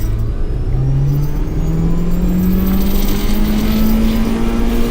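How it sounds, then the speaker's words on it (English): An old carbureted 1-liter four-cylinder car engine runs while driving, a steady close drone with rising engine pitch as it pulls through the gear, loud and continuous with no talk. "This is a carbureted engine. It's a 1 liter."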